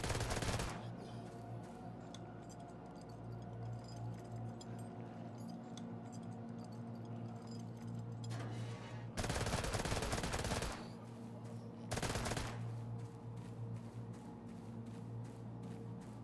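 Rapid automatic gunfire in a shooter video game, with bursts of machine-gun fire in a continuous rattling stream and two louder, denser bursts standing out over a steady droning background hum.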